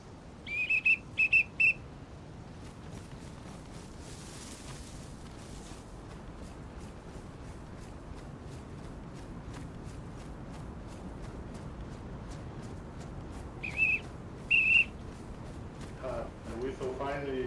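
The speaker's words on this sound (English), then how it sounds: "somebody's blowing a whistle out there" A whistle blown somewhere distant in the DayZ game world, set in Chernarus woodland: short shrill tooted bursts in two clusters, at the start and again near the end, over a steady outdoor ambience.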